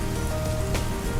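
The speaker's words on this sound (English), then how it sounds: "The first showers of the southwest monsoon." Southwest monsoon rain showers fall steadily and densely on surfaces in the Dakshina Kannada region, a continuous close hiss of raindrops with no talking.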